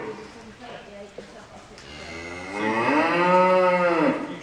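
Heifers moo loudly during pregnancy scanning on a cattle farm, one long drawn-out bellow rising and swelling close by after some quieter lowing and handling noise.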